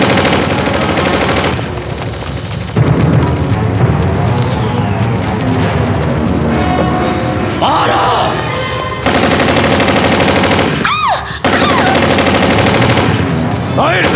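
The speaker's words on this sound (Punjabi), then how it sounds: "ਰੋਸ਼ਨ ਚਾਹ ਫਾਇਰ ਰੋਕੋ ਫਾਇਰ ਰੋਕੋ ਰੋਕ ਫਾਇਰ" Heavy gunfire in an action scene from a Pakistani film, with sustained bursts of automatic and repeated shots that are loud and dense, layered with shouting voices and dramatic music.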